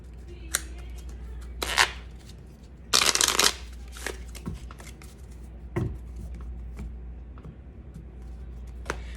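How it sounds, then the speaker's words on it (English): Playing cards are shuffled, handled and set down on a table in a quiet room, with soft scattered flicks and taps and one louder riffle burst partway through. "I'm gonna put these cards down."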